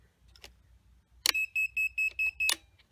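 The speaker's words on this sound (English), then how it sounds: "let's check the beeper" The flight controller beeper on an FPV racing drone, a Skystars X140 140mm micro kit, sounds a run of five evenly spaced high-pitched beeps, with clicks at the start and end, close and clear.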